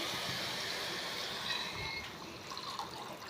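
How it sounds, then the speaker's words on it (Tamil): Water pours steadily from a metal pot into a cooking pan for vermicelli noodles, a continuous splashing rush up close that thins slightly toward the end, with no talking. "இப்போ ஒரு செம்பு தண்ணி ஊற்றிக்கலாம்."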